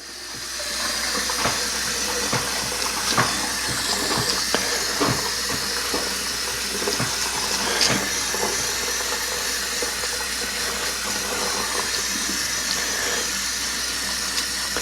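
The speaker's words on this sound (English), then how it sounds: "I'm just going to start in the seam and try to rinse it downward." Water spray hisses steadily from a hose onto a UNI foam air filter from a Kawasaki KRX, rinsed downward from the seam, a continuous close wash with small splashy ticks and no talk.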